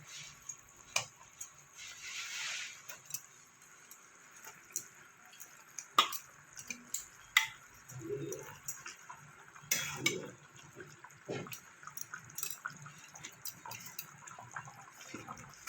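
Pointed gourd pieces are dropped into simmering gravy and stirred in a pan, giving sparse clinks, taps and soft splashes over a faint bubbling background, with no talking.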